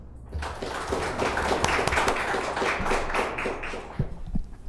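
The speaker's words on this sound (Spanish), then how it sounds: "Los recibimos con un aplauso." Sustained applause from a forum audience welcoming panelists at an internet governance event, a steady wash of clapping that lasts throughout.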